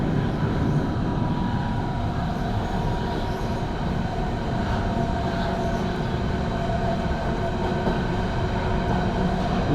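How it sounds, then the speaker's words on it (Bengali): A German S-Bahn train runs with a steady, dense rumble and hum heard from inside the carriage as it nears a station, with no clear pause or braking change. "আমরা একটা স্টেশনের কাছে চলে আসছি, ট্রেনটা এখানে থামবে।"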